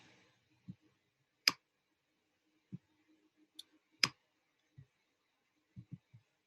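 Sparse computer mouse clicks while building a Roblox obby platform, a few sharp isolated clicks spaced irregularly with longer pauses, close and fairly quiet, no talking.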